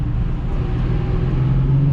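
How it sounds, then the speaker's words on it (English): A Nissan 350Z with a fender liner screw rubbing against the tire, heard as a loud, continuous low rumbling drone from the moving car, with no talking. "there's one screw that barely rubs against the tire, and that's what we're hearing"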